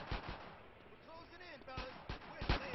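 Gunfire in GTA San Andreas as police shoot at gangsters, with repeated sharp bursts and heavy bangs spread through the stretch, fairly close, over a steady game background with no speech.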